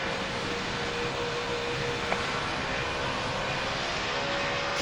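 A Ryanair Boeing 737 in the Roblox game PTFS hums with a continuous airplane engine drone, steady and even, with a faint tonal whine and one brief click partway through.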